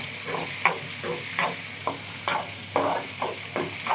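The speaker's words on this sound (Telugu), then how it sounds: "చూడండి, కందిపప్పు కూడా వేగుతుంది." Dry toor dal roasting in a pan while bottle gourd peel chutney is being made, with a steady faint sizzle and a regular run of scraping stirs, about two per second, close by and with no voices.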